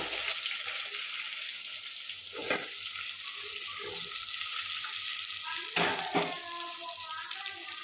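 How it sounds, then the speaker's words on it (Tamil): Onions frying in a pan with ginger and garlic for a green pea kurma, a steady broadband sizzle throughout with a few louder scraping strokes of stirring near the start and again toward the end. "நல்லா கிண்டி விடணும் இப்போ கொஞ்ச நேரம் வெங்காயம் வந்து வணக்கட்டும்"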